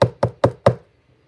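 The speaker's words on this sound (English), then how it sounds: "Sheila knocked." Four quick knocks on a door, evenly spaced and close, sharp and solid with a short hollow ring, followed by silence.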